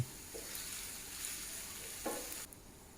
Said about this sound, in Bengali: দেখুন পেঁয়াজটা ভাজা হয়ে গেছে